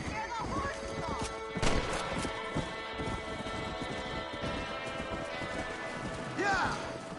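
Horses run in the video game Red Dead Redemption 2, their hooves drumming a brisk, continuous clip-clop up close. A brief whinny-like cry rises near the end, and voices call out intermittently over the hoofbeats.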